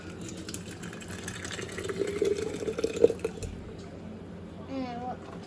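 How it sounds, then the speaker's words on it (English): Hot liquid pours and gurgles into glass canning jars during a large family canning day, a moderate splashing flow rising and fading over a few seconds under faint background voices. "We're gonna fill these jars."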